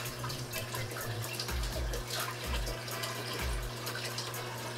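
Water churning in a saltwater reef aquarium as Tunze pumps push steady current, a continuous rushing, splashing wash with a low hum underneath, fairly close and unbroken.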